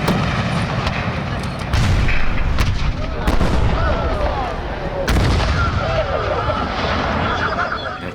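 Artillery fire recorded on the Gettysburg battlefield for a video game, including mortar and cannon blasts. Heavy, sharp booms strike roughly every second or two over a dense, rumbling background.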